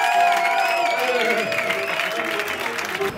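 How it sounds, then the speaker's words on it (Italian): Crowd at a Turin jazz festival flash mob applauding and cheering a performer's introduction, continuous clapping with raised voices and whoops layered over it. "applausone!"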